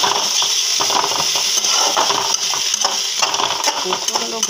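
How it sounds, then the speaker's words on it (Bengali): Okra, bitter gourd and potato frying in a pan at breakfast: a steady, close sizzle with repeated scraping and clinking of a utensil against the pan throughout. "এখানে ঢ্যাঁড়স ভাজা, এই কী বলে, উচ্ছে আলু ভাজা বসিয়েছি।"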